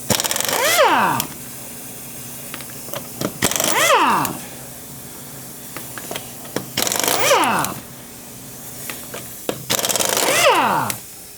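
A power tool takes the wheel off a 2006 Pontiac Torrent during a front ball joint job: four loud, close bursts of rattling whir that spin up and wind down, with light clicks and clatter in the pauses.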